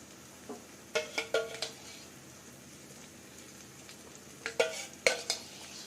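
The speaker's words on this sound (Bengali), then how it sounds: "টক দই ভালো করে মশলার সাথে এবার মিশিয়ে নেব।" Spoon stirring yogurt into a frying spice paste for egg malai curry in a pan, several short scraping clinks in two bursts over a soft background sizzle.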